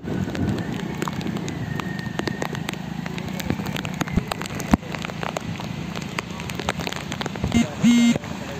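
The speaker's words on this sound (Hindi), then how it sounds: "बहुत तेज़ बारिश से नदी नाले पूरी तरह से उफान पर हैं।" Heavy monsoon rain falls steadily around a flooded low causeway where overflowing water rushes past, a dense patter with scattered sharper drops and a few brief thumps, close and fairly loud.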